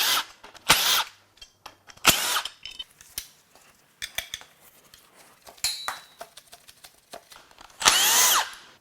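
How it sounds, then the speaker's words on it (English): A power tool drives fasteners on a Nissan Frontier 3.8L VQ38DD V6 while the high-pressure fuel pump comes off, in short bursts of whirring with clinks and rattles of tools and parts between them and a longer run near the end. "I'm going to remove the high-pressure fuel pump."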